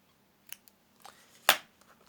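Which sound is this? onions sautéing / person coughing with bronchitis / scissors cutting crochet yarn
scissors cutting crochet yarn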